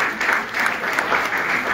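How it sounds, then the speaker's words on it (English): An audience applauds at an award ceremony, a dense, steady burst of many hands clapping at moderate loudness with no voices over it. "Wow, round of applause."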